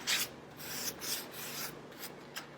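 A small damp sponge rubbed over paper strips laid vertically on a craft pumpkin, soft close scrubbing and swishing strokes in irregular bursts, quiet with no talk.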